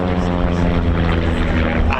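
de Havilland Chipmunk propeller trainer at an airshow, a loud, continuous buzzing engine drone close overhead that holds steady throughout, with a commentator's voice mixed in.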